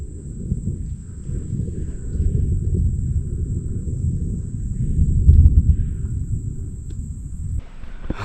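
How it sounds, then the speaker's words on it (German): Low rumbling and rushing wind from an approaching thunderstorm sweep through the Amazon jungle, a steady dull roar that swells toward the middle and then drops away abruptly near the end. "ich höre schon seit einiger Zeit ein Gewitter immer näher kommen"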